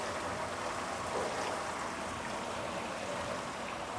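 Wine pours into a winery tank below in a steady, dense rushing and splashing flow, continuous and fairly loud throughout with no talk.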